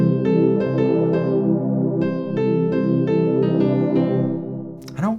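Sustained synthesizer pad chords in FL Studio with soft, swelling sustained tones, shifting between notes, loud and alone, ending with a brief sweeping glide.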